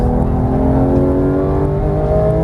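A Porsche GT3 race car accelerating on a Las Vegas track, its engine a steady, loud droning whine that holds strong and close throughout, with no talk over it.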